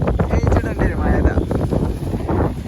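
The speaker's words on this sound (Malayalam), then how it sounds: "നല്ല കാറ്റുണ്ട് അല്ലേ?" Strong gusts buffet the microphone at a hilltop campsite at Kakkadampoyil, a loud roaring wind noise that swells and eases while people talk nearby.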